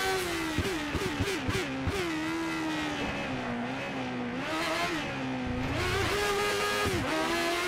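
Engine of a race car in the F1 2013 video game on the Silverstone or Nürburgring circuit, a loud, high-pitched whine climbing and dropping through repeated gear shifts as it accelerates, continuous and close with no talking.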